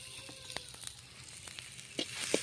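Finely chopped onion frying lightly in a pan for horse gram rasam, a soft continuous sizzle broken by a few sharp stirring clicks and scrapes, with no voices.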